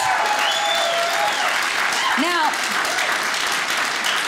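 A comedy-show crowd applauds veterans with loud, sustained clapping and a few whoops, while a voice speaks briefly over the noise.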